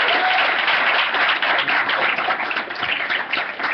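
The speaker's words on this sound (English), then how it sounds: "Please, big round of applause for Venture Camp." Sustained, dense applause from an audience welcoming a venture camp group at a June 2013 startup showcase, steady and loud throughout with no talk over it.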